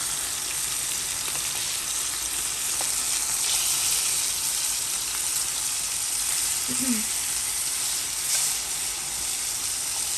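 Chicken pieces for lettuce wraps fry in a pan over high heat, giving a steady, loud broadband sizzle that runs unbroken throughout, with a brief faint clink near the end.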